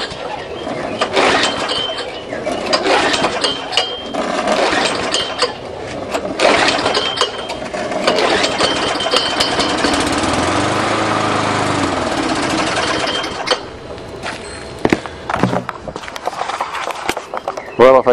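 A small Tecumseh lawn mower engine, flooded with too much gas, sputters and runs roughly, with clanks and scrapes around it, then cuts out near the end.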